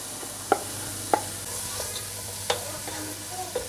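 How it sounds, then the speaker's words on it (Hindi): Three tablespoons of oil with three large finely chopped onions sautéing for stuffed round gourd, a steady close sizzle with sharp clinks of a spoon stirring the pan at irregular moments. "इनको मैं सौते कर लूँ,"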